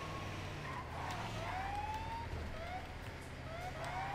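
A police car siren wails from a patrol vehicle in GTA 5 roleplay, its rising and falling sweeps repeating steadily over a low engine rumble and traffic noise, moderately distant.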